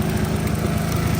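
The small single-cylinder engine of a Tao Tao Chinese ATV runs steadily close by, a rapid, even putter with a buzzing low drone and no voices.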